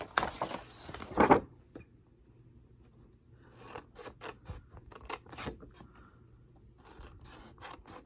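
Scissors make angled cuts into laminated paper edges while crafting a laminated embellishment tray, giving a few close, sharp snipping and rasping cuts up front, then lighter scattered cutting and rubbing sounds at a quiet level.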